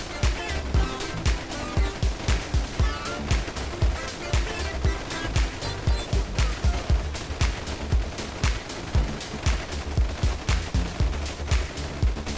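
Soldiers fire guns in a zombie survival game, a long dense stretch of rapid, sharp shots in irregular bursts, loud and continuous, with a roaring wash beneath.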